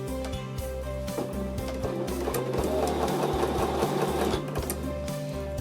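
A sewing machine stitches quilt fabric for a charm pack table runner, running in a fast, even mechanical chatter of needle strokes, close and continuous.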